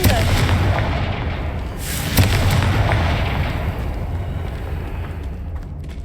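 Confringo blasting spell explosion in Hogwarts Legacy, a heavy booming blast followed by a second burst and a long rumbling decay, with a voice calling out the spell.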